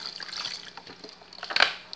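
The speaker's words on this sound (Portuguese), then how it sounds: "Vinagre você vai colocar a metade do vidro." Vinegar poured into a glass jar gives a soft, close liquid splash and trickle over about two seconds, ending in a brighter burst of pouring.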